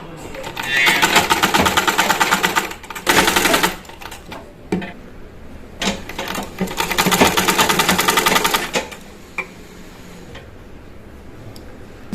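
Sewing machine stitching a garment piece for a designer three-piece outfit, running in two long bursts of rapid, loud stitching with short pauses and brief starts between them, near and clear.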